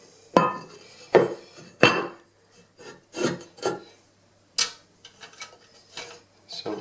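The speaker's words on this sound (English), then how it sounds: "And then you can pop the lid back on." A ceramic toilet cistern lid, on a Roca dual-flush cistern, is scraped and set back in place: a close series of rasping slides and sharp clunks, each a short burst with brief pauses between, and no voices.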